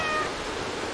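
A cat meows in the video game Stray, a single short call of about a second, fairly loud and close, alone over a steady ambient background.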